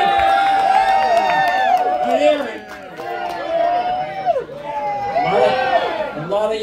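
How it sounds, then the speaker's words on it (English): A big crowd at a Kentucky Derby event at a polo club chatters in a dense, lively babble, with voices rising and overlapping close by and nearby people talking throughout. "there's a big crowd here"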